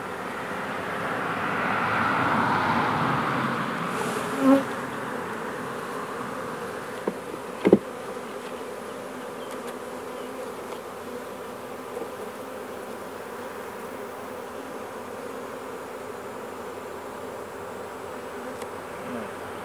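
Honeybees hum in a steady, close drone while a hive is opened for inspection, and a few faint clicks and knocks of handling are heard over the constant buzz.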